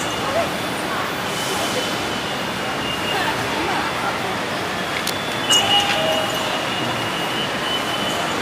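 A Malaysian LRT train runs through a large station, with a broad rumbling roar, some faint high squeals near the end, and background station ambience.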